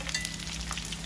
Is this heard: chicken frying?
yes